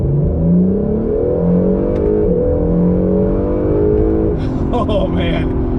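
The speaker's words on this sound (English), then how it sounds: "Out of a V6, we're getting some serious performance out of a V6." An Acura NSX's V6 engine pulls hard under acceleration, a loud, smooth rising drone with steady climbing tones, and a brief shift near the end, with people talking over it inside the car.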